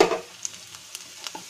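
Onion, garlic and green chilies frying in a pan make a soft, faint sizzle, with a brief stirring scrape at the start and a few light pops and clicks after it.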